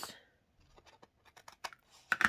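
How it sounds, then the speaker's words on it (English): Scissors snip the corners of a small Little Golden Book page, giving a few dry, scattered clicks, then a cluster of sharper, louder cuts close by at the end, with no voices. "You can just take a pair of scissors and snip your corners"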